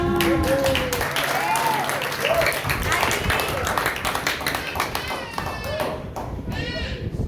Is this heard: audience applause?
yes